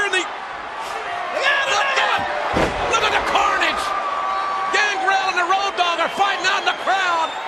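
A professional wrestling choke slam onto the mat during a 1998 match featuring Kane, with a sharp heavy impact amid a roaring arena crowd and excited commentary over the top.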